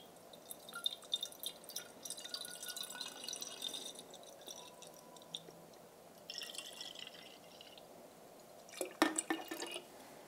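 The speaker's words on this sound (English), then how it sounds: "So I'm just going to pour this in." Liquid poured from a classic milk bottle at home, soft trickling and dripping in several bursts with quiet gaps, ending in a brief louder splash.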